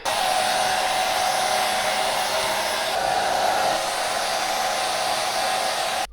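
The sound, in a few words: hair dryer running to dry wet belongings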